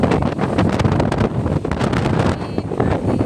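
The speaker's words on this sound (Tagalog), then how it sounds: "Malakas ang hangin" Strong wind buffets the microphone in loud, continuous roaring gusts, with a faint watery wash underneath.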